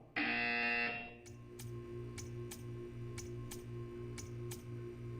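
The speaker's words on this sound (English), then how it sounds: "You will hear a buzzer." In the Portal 2 video game, a loud electronic buzzer sounds for about a second, then stops, leaving a steady hum with regular ticking clicks.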